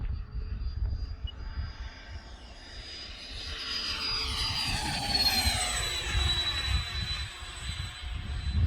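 A 95-inch scale F/A-18C model jet's turbine whines overhead, rising and shifting in pitch as it passes, with a steady roar lasting several seconds.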